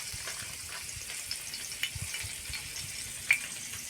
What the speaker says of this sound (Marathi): बघू शकता लसूण तळायला ठेवलेलं आहे